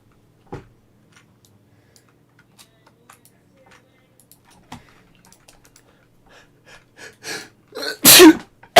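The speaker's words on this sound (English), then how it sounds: "That's a horrible time for me to sneeze" Near the end, after quiet small clicks and a couple of soft thumps, a person's breathy build-up of inhales leads into one loud, close sneeze.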